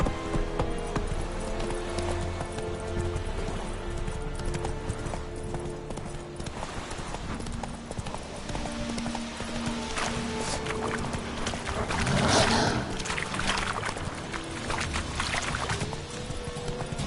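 Roach the horse galloping in Witcher 3, rhythmic clip-clop hoofbeats running steadily under dense game ambience and music, with a surge of noise near the end.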